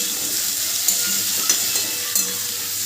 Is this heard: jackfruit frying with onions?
yes